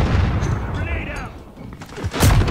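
Kilo 141 assault rifle fire in a multiplayer shooter video game, a few sharp bursts and booms with in-game noise, close and loud, a voice faintly mixed in.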